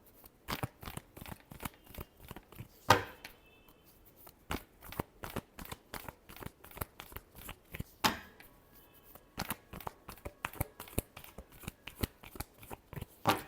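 Tarot cards are shuffled by hand in a fast, steady run of crisp snapping flicks, with two louder riffling bursts partway through, close-up and with no one speaking.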